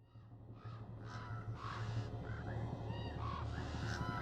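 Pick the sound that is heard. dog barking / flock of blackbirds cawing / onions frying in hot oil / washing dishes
flock of blackbirds cawing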